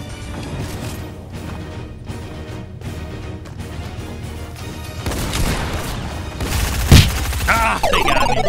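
Video game gunfire in Fortnite: dense, repeated shots and crashing impacts, loud and continuous, with a sharp boom near the end.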